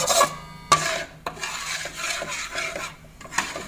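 A spoon scrapes and clatters against a pan as shrimp meat is stirred into a laksa mixture, with steady rasping strokes and a few sharper knocks, close and fairly loud.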